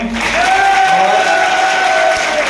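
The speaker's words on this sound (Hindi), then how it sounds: "एक बार जोरदार तालियां।" An audience at a network marketing event applauds in a steady, dense burst of clapping while a voice rings out over it.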